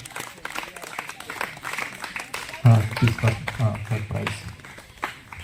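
Applause from an audience at a tribal-rights orientation training, a steady scattered clapping running throughout with a louder burst midway, while someone speaks over it through a microphone.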